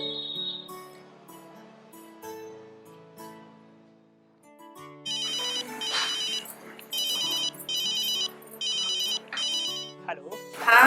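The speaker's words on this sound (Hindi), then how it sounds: "अपनी मीनवा को फोन लगाते हैं" A mobile phone ringtone sounds in a Hindi-dubbed South Indian film scene while a call is placed. Soft background tones come first, then a loud, close, repeating electronic ring pattern plays in regular bursts.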